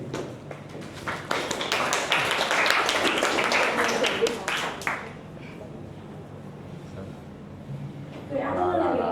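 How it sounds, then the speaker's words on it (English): An audience in a classroom presentation session claps for a presenting team, a few seconds of steady, moderately loud applause that fades out, followed by quiet and then talking. "A round of applause for this team"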